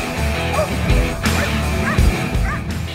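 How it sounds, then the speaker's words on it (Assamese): Sniffer dogs of the Kaziranga canine squad bark loudly and close, several sharp barks and yips spaced through the moment with some whimpering between them. "কাজিৰঙাত আমাৰ ডগ স্কোৱাড বেসিক্যালি কেনাইন বা স্নিফার ডগ আমি কওঁ"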